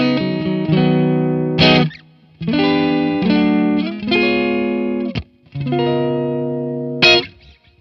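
Distorted electric guitar through a Kiesel Hyperrig plays a series of sustained chords and bends with only a light touch of reverb, notes stopping fairly cleanly between phrases, loud and close.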